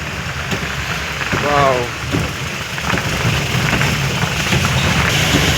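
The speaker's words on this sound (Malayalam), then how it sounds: "ഇവിടെ എത്തിയപ്പോഴത്തേനും അതിശക്തമായ മഴ." Heavy rain drums steadily on an off-road Mahindra Classic 4x4 during a drive in Maharashtra, a dense close roar with a low engine rumble beneath and a voice speaking briefly.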